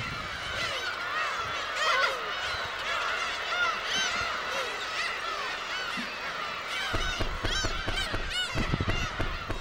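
Young seagulls on a remote islet in the West Sea call in a dense, continuous chorus of shrill overlapping cries and squawks, with flapping and rustling as they take flight.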